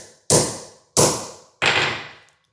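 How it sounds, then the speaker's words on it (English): Three sharp, evenly spaced hammer blows land on a wire crimp terminal during fuse wiring on an SR20DET engine swap, each a loud close metallic strike that rings briefly and fades before the next. "I can measure out the length required and I don't need to crimp it in the car, which means I can hammer it"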